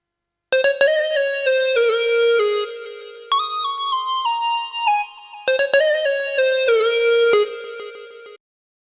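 A bright synth lead plays a short, bouncy melody with sustained notes, loud and upfront, in two repeated phrases with no other voices.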